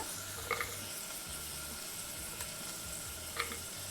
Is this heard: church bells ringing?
no